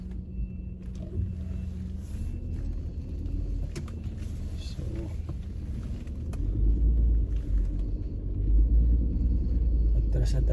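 Road traffic rumbles past along the California coast in Daly City, a steady low engine drone that swells louder toward the end.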